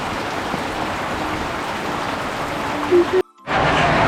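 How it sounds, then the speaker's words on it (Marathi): Steady monsoon rain in Goa hisses continuously, with a brief dropout near the end before the downpour sound returns just as strong. "सहान झाली तरी पाऊस असाच"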